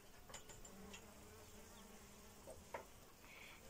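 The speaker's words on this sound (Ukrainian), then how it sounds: "Поряд з нами працюють бджоли." Faint, steady insect buzzing hums in the background, with a few soft clicks and knocks scattered over it.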